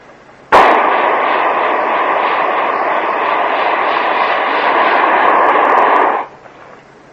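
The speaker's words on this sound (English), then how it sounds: "I think I'm going to time it for a while and see how long I have the burner on per minute average." Hot air balloon burner firing in flight, a single loud, close roaring blast that starts abruptly, holds steady for about six seconds and then cuts off.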